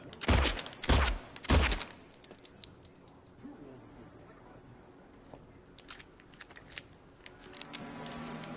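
Three loud gunshots fired in quick succession in Silent Hill 2 Remake, close and booming, followed by quieter clicks, metallic handling and faint shuffling.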